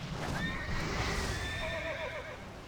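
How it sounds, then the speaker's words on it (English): A horse in World of Warcraft lets out a falling, wavering whinny amid steady game ambience and some hoof clatter. "that was a pretty good jumping horse"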